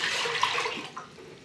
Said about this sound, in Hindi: 1 किलो पानी डालूंगी